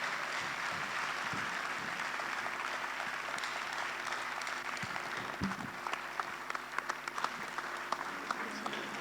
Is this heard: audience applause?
yes